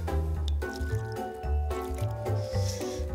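A burger mixture for mini burgers with egg and pancetta is worked by hand while water is added, giving wet squishing and squelching close up over a constant background hum, without speech.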